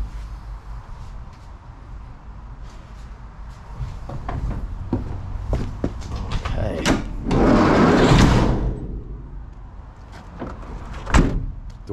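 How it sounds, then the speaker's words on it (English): Door of a 1991 Ford Econoline E250 van being worked and shut, giving several clicks and a few solid thuds, with one sharp bang near the end, heard close up against a low background rumble. "Door shut really nice. No hinge issues, of course."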